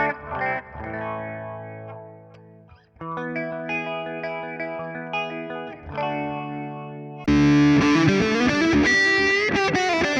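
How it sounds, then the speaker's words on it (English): Electric guitar played through a Hotone Ampero Mini on its sparkling overdrive preset, with shimmering chorus and echo, strummed chords and arpeggios ringing out, growing louder and denser in the final few seconds. "Sparkling overdrive."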